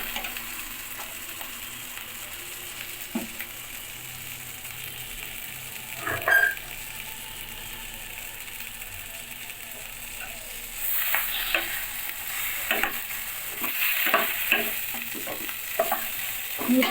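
Diced tomatoes stirred into a rohu fish curry in a pan, a soft steady sizzle with scattered spoon scrapes that grow busier and louder toward the end.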